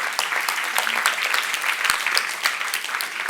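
Steady audience applause from a church youth group gathering, a dense crackle of many hands clapping at an even level throughout, with no voices over it.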